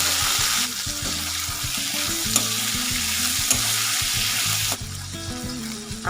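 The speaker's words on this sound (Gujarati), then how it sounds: "આપણે એની અંદર પતલા પતલા ઝીણા કટિંગ કર્યા છે તો બટેકા એડ કરીશું." Finely cut thin potato slices drop into hot oil already seasoned with curry leaves, asafoetida and green chillies. A loud, dense sizzle rises at once, eases off partway through, then surges again, with stirring scrapes and no talk.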